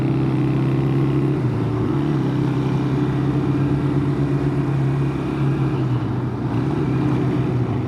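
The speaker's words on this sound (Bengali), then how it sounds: "এই আমাদের আসিফ ভাই চলে যাচ্ছে ইউএস আর্মির হেলমেট পরে, ওনার ভিনটেজ রোডমাস্টার নিয়ে" A vintage Honda Benly motorcycle ridden by a man in a US Army helmet hums steadily close by, its engine drone sustained and even as it pulls away.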